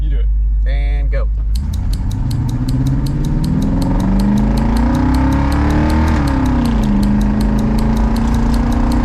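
A Chevrolet C10 truck with aftermarket speed parts pulls away from a complete stop, the engine climbing loudly through a rising rev that eases off and settles, up close, after a brief voice at the start.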